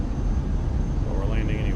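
Airliner landing in Microsoft Flight Simulator at Frankfurt, a steady low engine rumble and wind roar with a voice talking over it.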